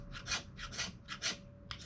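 A knife spine scraped repeatedly against wood to raise fine powdery shavings: five or six short, rasping strokes in an even rhythm, close and quiet.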